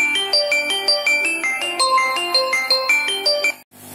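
A phone ringtone plays a bright, repeating electronic melody of quick, evenly spaced notes, loud and alone, ending abruptly after about three and a half seconds.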